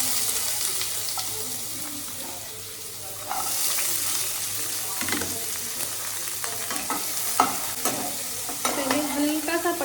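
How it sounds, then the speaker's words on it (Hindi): Pointed gourd (patal) frying lightly in hot oil with cumin seeds, a steady sizzle with stirring scrapes and clinks of a utensil, close up, with a faint running-water wash in the background. "पहले मैं पटल भाज लेती हूँ हल्का हल्का।"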